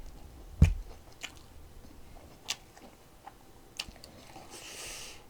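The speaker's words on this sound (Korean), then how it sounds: "14시간 만에 밥을 먹는 거예요." Someone eating a delivered bossam set meal with rice, soup and side dishes, with soft close biting and chewing sounds, one sharper crunch early on, then quieter intermittent mouth noises alone.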